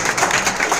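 Audience applause at a business meeting in a hotel, a brief, dense burst of many hands clapping together, loud and close.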